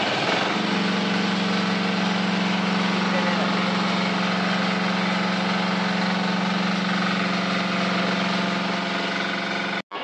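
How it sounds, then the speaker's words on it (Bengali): A generator engine runs with a loud, steady droning hum for about ten seconds after starting up, holding an even pitch until a brief cutout at the very end. "আমি এখন জেনারেটরটা চালু করব।"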